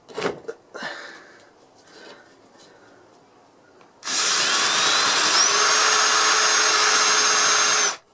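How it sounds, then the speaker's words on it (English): A power drill bores through a wooden block during shed building, a loud continuous whirring grind that starts abruptly and runs steadily for about four seconds before cutting off, after quieter handling noises. "you just need to screw through or drill through"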